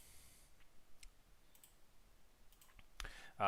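Rapid clicks from a spinning prize wheel in a Hellish Quart tournament draw, a string of faint ticks and taps building to a louder burst near the end, with low background murmur.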